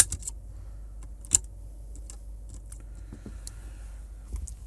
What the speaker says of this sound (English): So let's just snip that out.